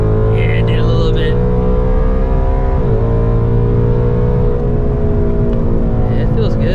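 An E85-tuned S650 Mustang GT with a 10-speed automatic pulls hard from a 30 mph roll. Its loud, droning engine note holds steady with a brief dip partway through, and voices talk briefly at the start and end.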